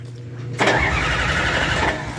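A bulldozer fitted with a grapple cranks and its engine catches about half a second in, settling into a loud, steady diesel rumble nearby with no voices over it.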